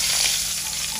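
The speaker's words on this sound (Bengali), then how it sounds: "এই যে পাতিলে পেঁয়াজ দিয়ে দিছি না, এখন কি ওই মাছ ভাজার তেলটাই দিয়ে দিবেন?" Onions fry in oil in a cooking pot, giving a close, continuous crackling sizzle with no voices over it.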